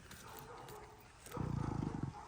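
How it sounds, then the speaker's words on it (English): A dog barks in a quick run of rough, repeated woofs, fairly close, after a stretch of background household noise. "Old Kayla's barking at the delivery van."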